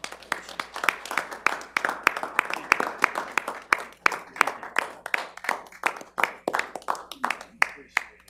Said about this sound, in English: And if the board could Give a round of applause for the mayor.